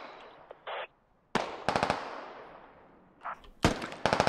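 Gunfire from an ambush team in the military video game Squad, sharp loud cracks arriving in short bursts of several rapid shots with brief gaps and faint rushing noise between them, and no speech.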